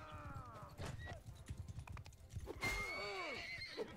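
A horse whinnies in Mount & Blade 2 Bannerlord during a battle, with loud rising-and-falling neighs near the start and again more strongly later, over clip-clopping hooves and scattered combat noise.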